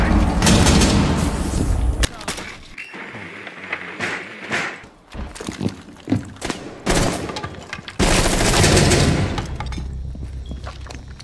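DMR gunfire in Rainbow Six Siege, heard as loud shots and bursts with thumps and game noise during a firefight while a player talks over it.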